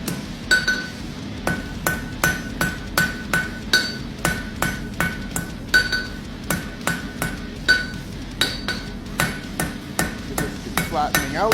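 Steady, evenly spaced hammer strikes ring on an anvil while the head of a five-cleft nail is forged, around two dozen sharp clanging blows in a regular rhythm, close and clear.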